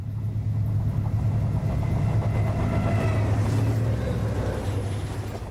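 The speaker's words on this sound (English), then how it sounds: "this hot westbound intermodal train rushes past our camera, whipping up a stiff breeze in its wake" A hot westbound BNSF intermodal freight train rushes past close by with a loud, sustained rumble of engine and wheels, mixed with wind buffeting, on the Cuba Sub in Ozark country.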